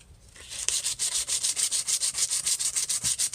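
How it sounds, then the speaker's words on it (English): Sandpaper rubbing back and forth across a card part for a 3D Father's Day card, making a steady, close, rhythmic scratchy hiss with about a dozen evenly spaced strokes and no talk. "I need to sand this part down"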